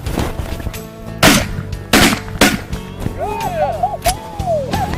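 Several sharp, loud gunshots ring out at uneven intervals during a shooting session, with a shout and bits of background talk between the reports.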